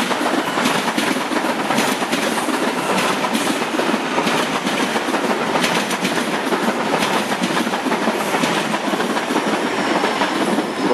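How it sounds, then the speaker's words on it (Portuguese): A freight train reverses with its tail end covered, locomotive 9500 moving the wagons; a loud, continuous rumble with rhythmic clickety-clack of wheels over rail joints and a faint hiss, heard close and with no talking. "aqui o recuo do trem, né?"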